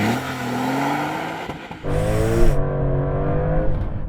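A Porsche 911 Turbo S launching hard in a 0 to 60 acceleration test, its engine note climbing steadily through the revs, a brief dip at a gear change, then rising again, loud and close.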